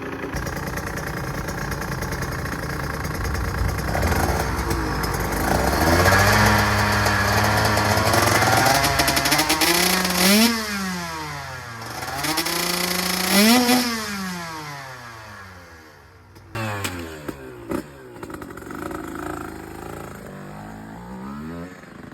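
A 2024 KTM 125SX TBI two-stroke dirt bike fitted with a Pro Circuit R-304 Shorty exhaust, loud and close, idling then revving repeatedly in sharp rising and falling bursts before dropping back near the end.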